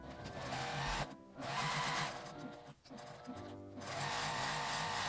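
A sewing machine edge-stitches both sides of a fabric strap for a tote bag handle, running in steady whirring bursts, pausing briefly twice between runs of stitching, close and moderately loud.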